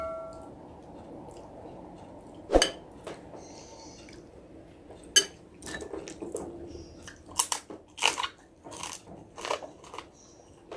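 Crunchy fried adobong atay, chicken liver cooked with fat, is bitten and chewed close to the mic in sharp, scattered crunches and softer chewing over a quiet background.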